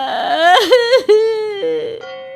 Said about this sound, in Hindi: और जोर से रोने का टेप शुरू कर देती है।